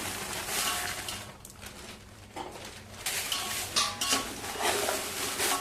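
Kashmiri and Byadgi dried chilies roast in a little oil in a pot over medium heat, stirred with steady metallic scraping and rattling against the pan, rising and falling in bursts with no talk.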